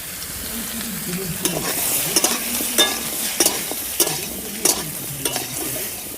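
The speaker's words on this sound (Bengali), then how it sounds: "দেখো কলাগুলো আমি ভালো করে ভেজে নিয়েছি" Raw bananas fry with bay leaves and whole cumin in a pan, a steady close sizzle broken by repeated scraping and clattering strokes of a spatula stirring the pieces.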